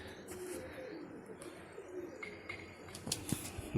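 Pigeons coo softly in the distance amid faint outdoor ambience, with a few short chirps and a louder coo near the end, as flown pigeons return.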